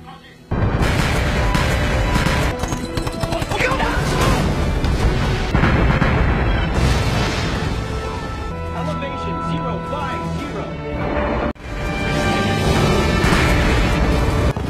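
Heavy booming blasts of giant-calibre warship naval guns fire in repeated bursts over dramatic music, loud and continuous with a brief break near the end.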